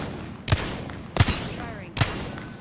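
Three sharp, booming video game gunshots ring out about three-quarters of a second apart, each with a short ringing tail over a low background bed.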